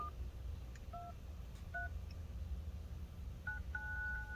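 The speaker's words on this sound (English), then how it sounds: "Can I dial 411 or 611?" Keypad dial tones from an iPhone 8 Plus with a replaced ear speaker and sensor, sounding as several short paired beeps, spaced out, then a quicker run of tones near the end over a steady low background hum.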